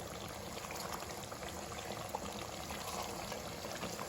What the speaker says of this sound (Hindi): अब हम इनको भून लेते हैं मीडियम फ्लेम पर हल्के हाथ से